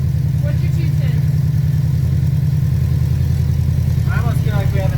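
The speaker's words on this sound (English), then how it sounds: "I almost feel like we have an exhaust leak." A Subaru STI engine with an exhaust leak idles steadily, a low throbbing drone with a ticking pulse, close and continuous, with brief voices audible near the end.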